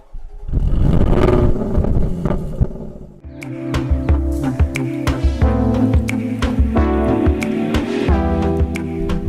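Jaguar F-Type sports car driving, a loud throaty engine roar that surges, then a rapid rhythmic burble of crackles and pops as the revs change.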